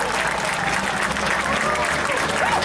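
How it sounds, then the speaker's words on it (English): An audience at a talk breaks into steady, dense applause that fills the room evenly throughout, with faint voices underneath. "Let's give him a big, big applause."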